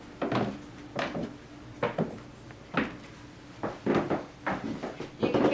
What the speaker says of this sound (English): You can hear the creaking of the stairs as you work your way around up here.